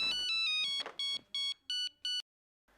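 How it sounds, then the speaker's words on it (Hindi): Repeated electronic telephone tone in short even pulses, close and clear, ending in silence, from a household phone whose dial tone has gone wrong. "इसका डायल टोन क्या हो गया?"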